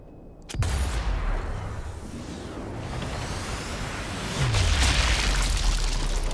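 A sniper rifle shot in the video game Sniper Elite 4: one sudden loud boom that fades into a long, deep rumbling tail, with a second swelling roar near the end.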